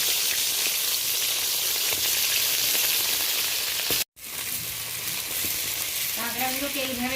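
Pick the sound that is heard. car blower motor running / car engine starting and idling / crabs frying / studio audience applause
crabs frying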